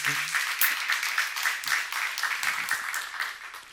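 A Korean church congregation claps during a sermon, producing sharp, closely packed hand strikes in a fairly regular rhythm that continues steadily from start to finish.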